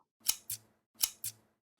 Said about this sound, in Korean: 펠트지 위에 자와 볼펜으로 그 치수값만큼 사각형으로 그려주시고 가위로 오려내주세요